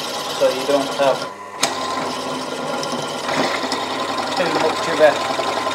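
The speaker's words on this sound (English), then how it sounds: "just push the motor back a bit, give it a bit more grip" A belt-driven machine motor runs with a loose belt, a steady mechanical whir with clacking bursts under close talk and a brief dropout early on.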